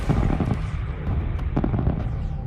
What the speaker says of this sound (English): So we did get to see pretty fireworks and beam lasers.